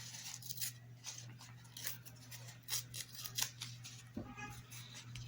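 Material, likely paper, is torn by hand in a series of short crackling rips under a steady low hum, quiet and close.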